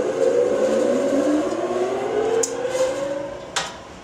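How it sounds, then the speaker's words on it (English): A Seybold 60 paper cutter motor spins up, its whirring tone rising and then settling toward an even pitch, with a couple of sharp mechanical clicks near the end. The sound is close and loud, with no voices. "Wait until the machine reaches an even tone. When it's an even tone, that's the perfect operating speed."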